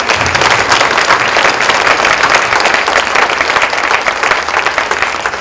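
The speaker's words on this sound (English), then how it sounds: "Round of applause." A literary festival audience gives a loud, steady round of applause, dense and continuous clapping from a large crowd in a hall, lasting over five seconds without speech.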